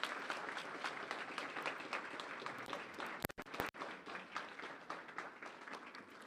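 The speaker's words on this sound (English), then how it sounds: "why don't we give a round of applause for our school counselors?" A school board meeting audience in Fort Worth applauds its school counselors, a steady wash of many hands clapping at moderate distance, with a couple of brief sharp knocks or bumps near the middle.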